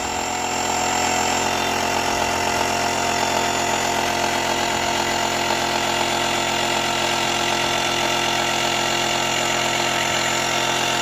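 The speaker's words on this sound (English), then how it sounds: "you see that it's pumping up relatively fast here" An electric air pump inflating a budget dinghy, a loud continuous motorized drone with steady whine, close and unbroken throughout, no voices.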